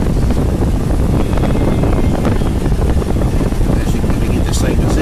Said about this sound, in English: a lot of people complain because the dash airs don't work in these. Folks, this thing right here is blowing out icicles.